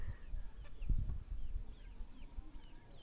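Chickens cluck and chirp faintly outdoors in rural Thailand or Laos, with scattered soft calls over a low rumbling background and a brief thump early on.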